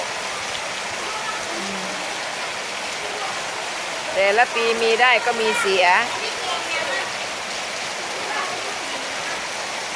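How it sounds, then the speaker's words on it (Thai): Steady rain falls on a rice farm in the morning, a constant broad hiss throughout, with a person talking briefly over it partway through. "ฝนตกงามคัก"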